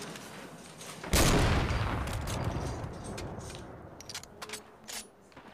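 A heavy sniper rifle fires in Fortnite Battle Royale with one sudden loud blast that rings out and decays over a couple of seconds, followed by faint scattered clicks and smaller impacts.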